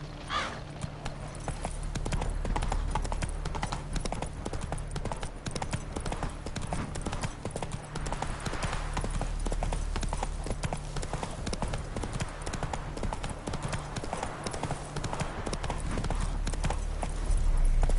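A horse gallops in The Witcher 3, steady fast hoofbeats drumming over a continuous low ambient rumble, sustained and fairly loud throughout the long stretch, with a faint voice briefly present.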